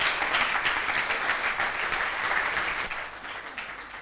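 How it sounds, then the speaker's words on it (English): Audience at an award ceremony applauding graduating students, dense sustained clapping from a large crowd that thins out and fades toward the end. "So a big round of applause for all of you."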